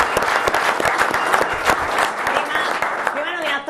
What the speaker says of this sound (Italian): Un applauso a Moreno.